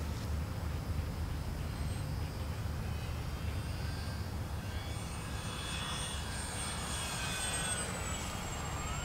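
An E-flite F4U-4 Corsair 1.2 m RC warbird drones steadily in flight, its electric motor whine holding continuous and fairly loud, with faint pitch sweeps as the plane passes and banks.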